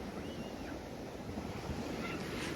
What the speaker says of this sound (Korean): 토렌스 비치는 숨겨진 명소처럼 한적하면서도 모래사장과 바다가 정말 깨끗해서 차분히 파도를 바라보며 힐링하기 딱 좋은 곳입니다